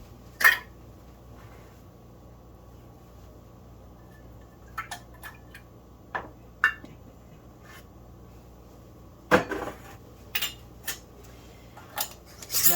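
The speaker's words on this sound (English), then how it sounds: "Now you're going to screw the rim on." A metal rim is screwed onto a glass canning jar. Scattered light metallic clicks and scrapes come at uneven intervals over a quiet room hum, with a few sharper knocks toward the end.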